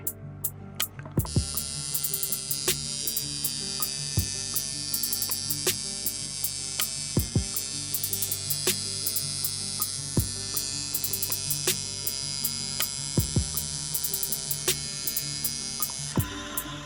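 A coil tattoo machine runs after calibration, giving a steady, loud electric buzz with a constant hum, close up for the whole stretch, with a few small clicks.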